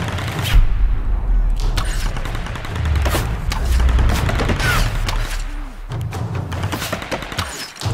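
Gunfire in Tomb Raider Definitive Edition, rapid bursts of shots and thumping impacts over a rumbling action background, loud and close, with a person talking intermittently over it.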